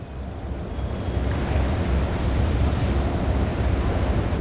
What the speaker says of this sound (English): the wind is really picking up out there